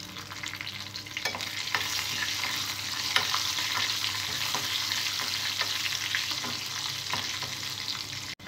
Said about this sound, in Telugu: ఎగ్స్ ఫ్రై చేసుకున్న ఇదే ఆయిల్లో కొద్దిగా జీలకర్ర, దాల్చిన చెక్క, లవంగాలు, పచ్చిమిరపకాయ వేసుకోవాలి.